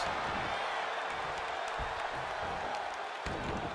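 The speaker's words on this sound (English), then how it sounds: "The sound of this crowd is deafening" A WWE 2K23 video game arena crowd roars in a loud, steady wash of cheering and applause that holds without a break for the whole stretch.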